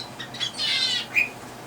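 A pet bird in a small home bird room lets out a few short, harsh squawks, loud and close, with a sharper call near the end and quiet room tone between.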